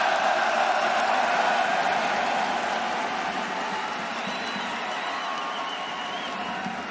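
A large arena crowd at League of Legends Worlds 2024 cheers and applauds in a dense, sustained roar that stays loud throughout and eases slightly toward the end.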